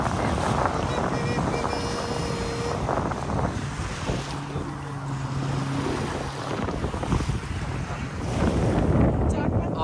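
Strong wind roars across the microphone at a beach on a summer day in Canada, a loud continuous buffeting rush with a voice briefly audible beneath it.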